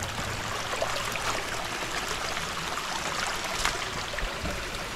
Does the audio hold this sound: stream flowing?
yes